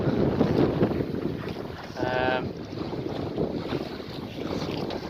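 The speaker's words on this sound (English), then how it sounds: "the wind is quite off and on, to be fair. It's sort of gusting after the showers" Steady wind roars and buffets across the microphone aboard a sailing boat on a river, rising and easing in gusts after rain showers, with water rushing beneath.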